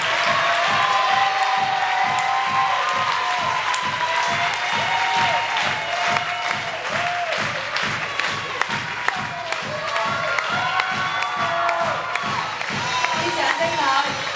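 An audience gives sustained applause for a cast member on stage, steady rhythmic clapping with scattered cheers and children's shouts mixed throughout.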